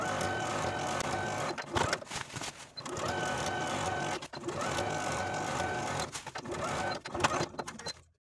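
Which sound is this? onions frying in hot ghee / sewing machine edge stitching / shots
sewing machine edge stitching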